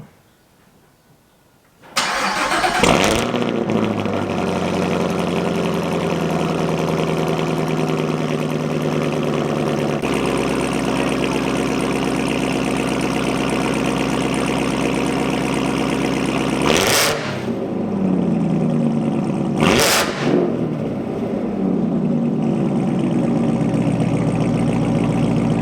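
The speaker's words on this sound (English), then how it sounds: "Let's get her started up" A Chevrolet Camaro ZL1 fitted with a Corsa exhaust cranks over and fires up loudly, then settles into a steady, rumbling idle close by, with two sharp throttle blips near the end.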